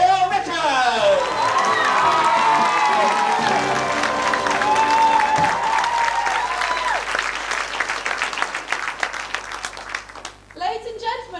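A game show studio audience breaks into loud, sustained applause and cheering with whoops, swelling as the host is introduced, then thinning toward the end as the clapping fades.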